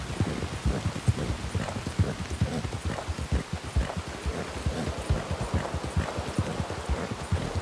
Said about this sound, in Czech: Prší, jsem mokrej.